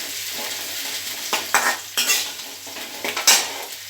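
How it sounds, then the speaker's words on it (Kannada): Coriander leaves dropped into hot oil for a tempering sizzle steadily in a pan, with a series of sharp scraping stirs and clinks from a utensil punctuating the frying hiss. "ಸ್ವಲ್ಪ ಕೊತ್ತಂಬರಿ ಸೊಪ್ಪನ್ನು ನಾನು ಒಗ್ಗರಣೆಗೆ ಹಾಕ್ತಾ ಇದ್ದೀನಿ"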